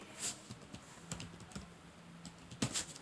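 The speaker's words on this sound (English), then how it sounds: "Typing." Typing on a computer keyboard, a sparse, irregular series of soft key clicks with a few sharper taps, faint and close against quiet background, no talk.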